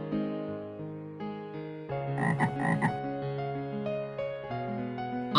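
A cartoon frog croaks in a Hindi children's story, giving several loud, close, rhythmic croaks that rise and fall over a few seconds, heard alone without talk.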